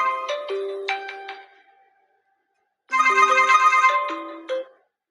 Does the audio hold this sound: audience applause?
no